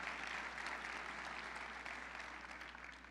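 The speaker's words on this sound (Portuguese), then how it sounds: "eu queria que a gente recebesse ele com uma salva de palmas" Even, continuous applause from an audience welcoming a speaker at a church mission talk, many hands clapping in a soft, distant-sounding wash with no break.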